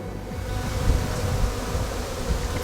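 Honeybees at a beehive flipped by harsh wind hum in a dense, continuous close-up drone, with gusty rushing air underneath and no voices.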